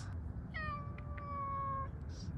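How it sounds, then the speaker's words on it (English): An orange cat gives a single drawn-out meow lasting about a second and a half, close and clear above a steady low background rumble, with a brief faint chirp near the end. "You're an orange kitty cat."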